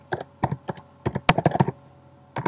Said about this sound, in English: I'm going to change that and type in my password